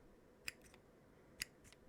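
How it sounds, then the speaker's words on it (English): Fishing scissors give two crisp, close snips about a second apart, each a sharp metallic click with a faint follow-on rasp, in a quiet room. "the last trigger for tonight, fishing scissors"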